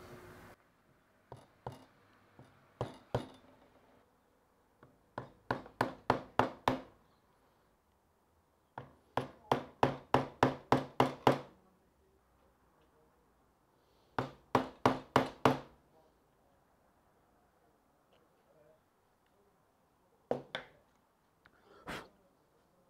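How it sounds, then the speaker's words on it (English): Sharp wooden knocks as a chisel is struck to cut out corners in wood for a piano stand stretcher. They come in rhythmic bursts of several blows, separated by quiet pauses, and sound close. "Now I'm going to chisel out the corners so that the stretcher can go all the way in."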